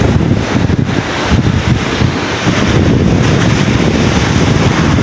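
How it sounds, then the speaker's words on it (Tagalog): Strong waves surge at Bangon Beach in Camarines Sur, a loud, continuous roar of surf mixed with heavy wind buffeting the microphone. "Lakas talaga ng alon"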